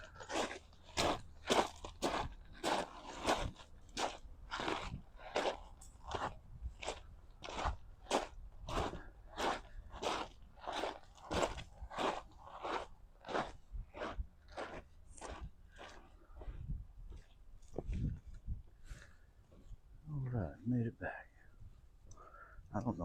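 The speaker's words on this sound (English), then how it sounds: "where you guys don't have to listen to my feet crunching" Footsteps crunch over loose rocks at a steady walking pace, each step a sharp close crackle, continuing for about twenty seconds before a brief pause and scuffing near the end, outdoors at a recreation area in the Ozarks.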